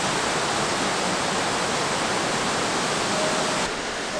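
Steady loud roar of a waterfall heard nearby, a dense continuous rush of falling water with no break, dropping slightly at the very end.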